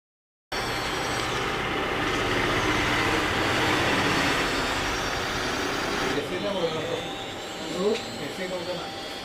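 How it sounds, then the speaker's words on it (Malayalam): A small remote control toy train whirs along its track continuously, motor humming loudly and steadily, then lighter rattling and clicks toward the end. "ഈ ട്രെയിൻ ഈ ട്രാക്കിലൂടെ ഫുള്ളായിട്ട് റൗണ്ട് അടിച്ച് വരും."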